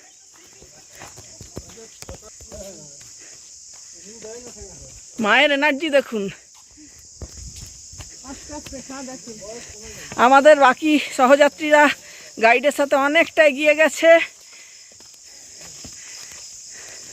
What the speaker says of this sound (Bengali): দেখুন ঝিঝি পোকার ডাক